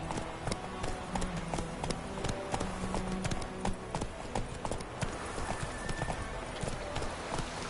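Roach the horse's hooves clop steadily in The Witcher, a brisk, regular rhythm of hoofbeats close by with a faint whinny and quiet ambient sound beneath.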